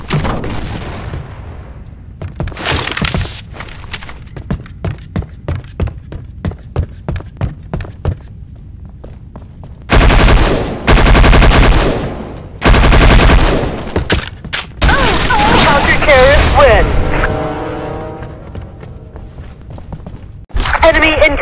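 Grenade and gunfire in the Counter-Strike Online 2 video game: rhythmic footsteps give way to loud repeated bursts of automatic fire and a heavy blast, with in-game voice callouts between.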